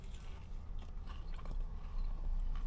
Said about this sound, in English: Crunchy chicken.